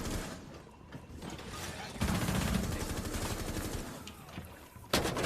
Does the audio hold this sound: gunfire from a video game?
yes